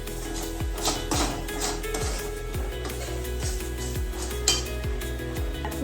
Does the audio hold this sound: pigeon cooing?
no